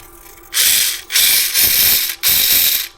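Whirring, ratcheting bursts from the steering servo of a micro 1:43 RC drift car, four loud close buzzes in quick succession as the wheels are turned back and forth, with no talking.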